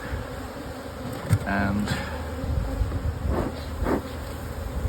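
Honeybees buzz around an opened hive worked with smoke during brood chamber management, a steady close hum with a voice speaking briefly over it.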